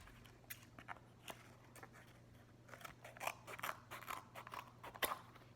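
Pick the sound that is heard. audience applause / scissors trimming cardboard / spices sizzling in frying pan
scissors trimming cardboard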